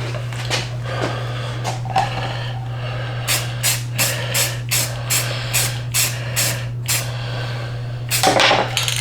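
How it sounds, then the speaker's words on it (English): A series of short hissing bursts from a Rust-Oleum spray paint can, about a dozen in a steady rhythm, close by, with a low constant hum underneath. "We just have some Rust-Oleum spray paint for that"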